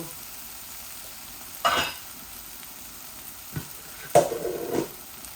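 Chicken pieces tipped into hot oil: a quiet background, then a sudden burst of sizzling and clatter, a small knock, and a second louder pour-and-sizzle that fades over a second or so.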